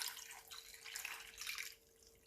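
Purified water solution from a Berkey filter system poured over eggs, a soft splashing trickle with drips running steadily for a couple of seconds, faint and close with no talking.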